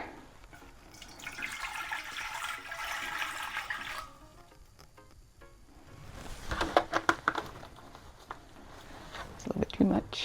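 Water poured from a tap and measured out as the base for homemade hair conditioner, a steady running-water rush for several seconds, then quieter clinks and splashes as a person talks over it.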